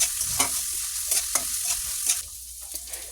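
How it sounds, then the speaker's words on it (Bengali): Chopped green chilies and onion fry in hot oil, giving a bright continuous sizzle broken by repeated stirring scrapes at a quiet, close level. "এবার দিয়ে দিলাম কাঁচামরিচ কুচি এটাকে কিছুক্ষণ ভেজে নিতে হবে"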